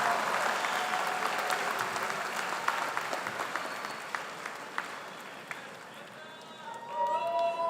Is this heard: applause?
yes